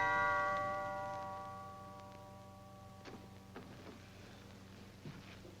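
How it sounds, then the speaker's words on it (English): Struck gong rings out in a 1940s film, a loud metallic tone that opens the clip and slowly decays into a faint shimmering hum, with a few soft knocks afterward. "Sound your gong, Alvin."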